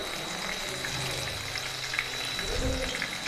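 Boiled vegetables fry in a pan with a soft, steady sizzle and a brief stirring scrape near the end, close and fairly quiet, with no talking.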